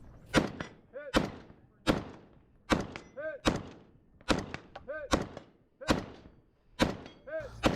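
Gunshots fired offhand at steel targets during a multigun match, sharp reports spaced about a second apart, many followed by a ringing metallic ping as a plate is hit, close and loud.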